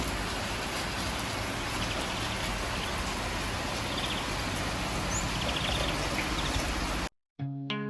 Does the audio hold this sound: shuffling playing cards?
no